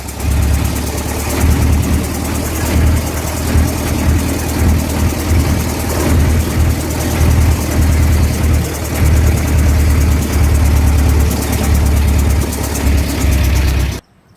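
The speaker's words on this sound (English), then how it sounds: "1914 Regal Underslung Touring Car" A 1914 Regal Underslung touring car engine pulls steadily in third gear, a loud, even low drone with rhythmic throbbing that runs unbroken for about fourteen seconds and then cuts off abruptly.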